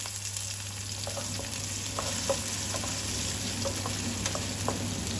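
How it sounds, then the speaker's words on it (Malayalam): Onions and green chillies sauté in a pan with a steady, moderate sizzling hiss and scattered small pops and crackles, alone without talk. "ഉള്ളി വഴണ്ട് കിട്ടാൻ സമയം കൊടുക്കാം"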